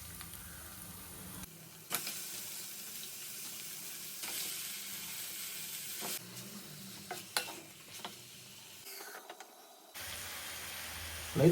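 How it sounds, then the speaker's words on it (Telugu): Ginger garlic paste and masala paste frying in a pan over medium flame for a chicken curry, a steady close sizzle and hiss with stirring scrapes, interrupted by brief pauses. "దీన్ని కూడా 2 to 3 minutes ఫ్రై చేసుకోండి"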